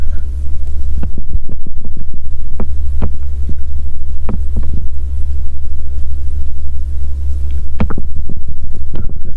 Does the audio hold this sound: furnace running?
yes